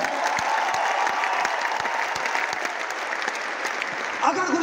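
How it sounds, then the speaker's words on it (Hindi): An audience gives loud, sustained applause, thick and continuous from start to finish, with a few sharper claps standing out and a brief voice near the end. "तालियां हो जाए।"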